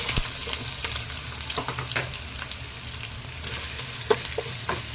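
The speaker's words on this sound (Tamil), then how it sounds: "இப்போ நம்ம வாழைக்காவை ஆட் பண்ணிடலாங்க." Raw banana slices fry in a wide pan, a steady close sizzle with scattered crackles and occasional stirring clicks, no voices.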